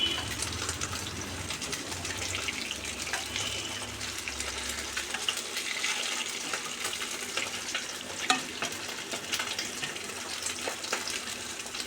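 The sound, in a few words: kofta balls frying in oil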